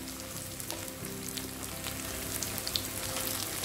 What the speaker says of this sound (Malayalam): ചുവന്നുള്ളി ഇതിലിട്ടിട്ട് നന്നായി വഴറ്റിയെടുക്കുക.